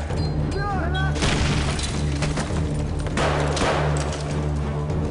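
A frag grenade goes off in Call of Duty Modern Warfare 3 gameplay, a dense booming blast with debris and crackle under a constant low game drone, followed by a second rumbling burst; voices speak around it.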